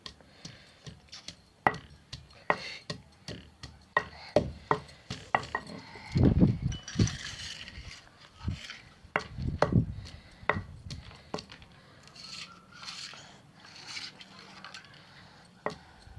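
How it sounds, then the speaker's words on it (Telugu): Garlic is coarsely pounded in a stone mortar while making a spicy chicken fry: irregular, sharp knocks and heavier thuds, close by, with a few brief pauses and no talking. "వెల్లుల్లి వేసామండి వేసి కొంచెం కచ్చా బచ్చాగా దంచుకుందాం"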